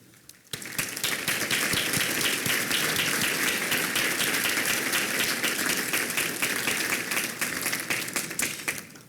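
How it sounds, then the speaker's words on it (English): Sustained applause from an award-gala audience at a regional chamber ceremony starts abruptly after a quiet moment and continues as a dense, even roar of many hands clapping, tapering slightly at the close. "would you please stand while we give you a round of applause for your efforts in making tonight possible?"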